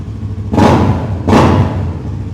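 A Kawasaki Ninja superbike fitted with an Akrapovic exhaust gives two sharp, loud throttle blips about a second apart, each a quick roaring burst that fades back to a low idle.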